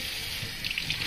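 Cold water runs steadily from a kitchen sink tap, a continuous hiss that grows slightly louder near the end, with no talking.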